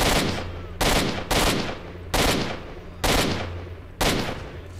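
AK rifle fire in STALKER: Shadow of Chernobyl, six loud single shots spaced unevenly, each a hard crack with a decaying boom behind it.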